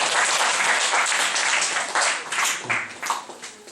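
Dense, loud applause from a church congregation during a sermon, filling the space steadily before tapering slightly near the end.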